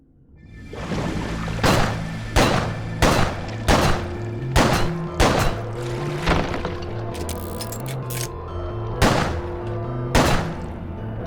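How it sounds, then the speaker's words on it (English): Heavy Magnum revolver shots from a boss fight in the horror video game Crow Country, about nine loud, evenly spaced booming blasts over a low, pulsing musical backing. "So change to your Magnum. We have plenty of ammo. Get ready to shoot as soon as he comes up."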